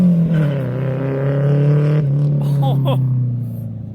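A Lexus driving past at a Memorial Day car meet, a steady engine drone that rises and fades as it passes, with people talking over it.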